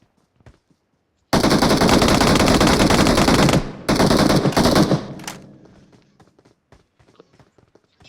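Rapid automatic machine gun fire in the video game BGMI, a loud sustained burst, a brief break, then a second burst that trails off into faint scattered shots.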